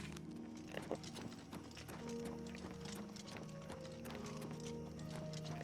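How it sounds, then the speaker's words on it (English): Horse hooves clip-clopping in Oblivion Remastered, a steady rhythm of light hoof strikes over a low, continuous game ambience, fairly quiet throughout. "Look at my horse. My horse is amazing."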